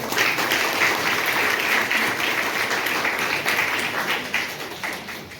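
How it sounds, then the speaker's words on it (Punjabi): Students at a women's ITI in Nawanshahr clap together in loud, sustained group applause that fills the room and fades slightly toward the end. "ਇੱਕ ਵਾਰੀ ਮਾਲਕ ਦੇ ਨਾਂ ਦੀ ਤਾੜੀ ਮਾਰੋ"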